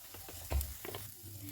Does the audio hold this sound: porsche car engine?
no